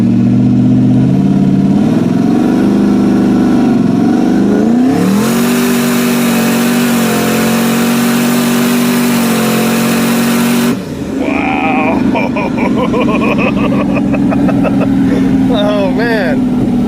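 A 600 HP Lexus pulls away from a stop and climbs through first and second gear, its loud engine note rising in pitch, dropping at the shift, then rising again, heard close from inside the car while people talk.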